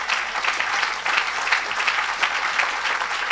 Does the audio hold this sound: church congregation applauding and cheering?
yes